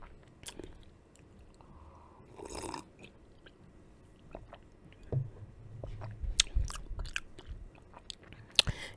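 Someone bites and chews an eggplant sandwich close up, with soft squishy crunches and mouth sounds scattered irregularly through near-silence.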